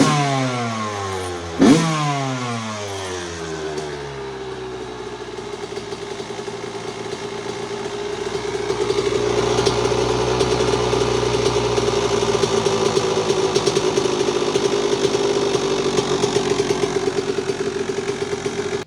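A 2001 Yamaha YZ125 two-stroke dirt bike engine blips once sharply, then drops to a rough idle before holding a loud, steady high rev for the rest of the clip, close by and with no talking.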